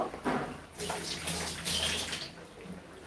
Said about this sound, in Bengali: একটু হাতটা ধুয়ে